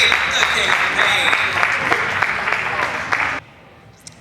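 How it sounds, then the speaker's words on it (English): A sideshow crowd applauds for a pain-act performer, brisk clapping at fair volume that holds for about three seconds and then cuts off abruptly into near silence. "A big round of applause for the amazing Zachary, the king of pain"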